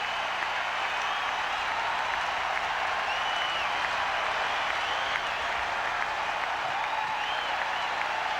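Baseball stadium crowd at a 1996 Yankees–Red Sox game in Boston erupting after a two-run double, a dense sustained wave of cheering and clapping from a distance, steady for several seconds.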